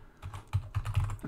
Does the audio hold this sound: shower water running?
no